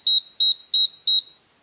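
Model rocket electronics emit four short double beeps during a continuity check of the main parachute deployment, evenly spaced, clean and alone with no talk.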